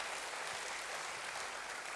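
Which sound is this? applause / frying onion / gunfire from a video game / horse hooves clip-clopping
applause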